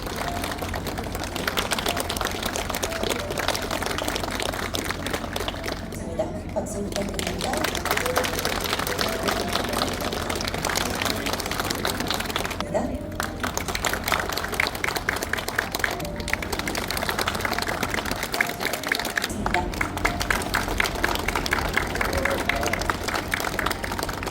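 An audience at a Korean dental association and Lotte Wellfood MOU ceremony applauds continuously, with dense steady clapping filling the room and brief dips between rounds as guests are introduced.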